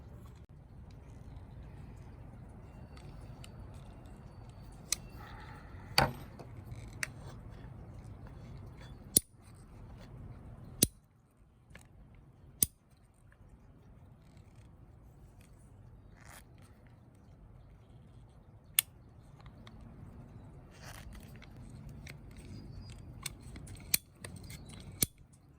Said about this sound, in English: the ability to cut through the pipe with a lot of accuracy